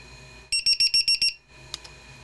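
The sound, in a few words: battery voltage alarm buzzer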